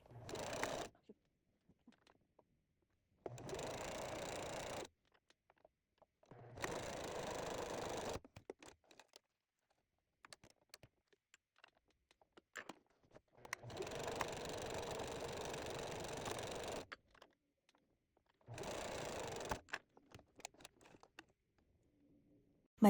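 A sewing machine stitches buttonholes in short bursts: five separate runs of steady motor whir, the longest about five seconds, with near-silent pauses between them and no talking.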